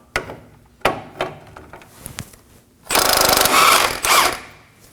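A ratchet with a 17mm socket removing the outer tie rod nut on a 2014-2020 Acura MDX: a few spaced, sharp metallic clicks, then a louder sustained burst of rapid ratcheting, close by.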